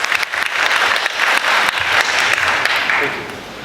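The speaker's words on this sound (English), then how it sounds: "Yes, that deserves an applause." An audience applauding a speaker at a talk, steady dense clapping from a sizable crowd held for several seconds.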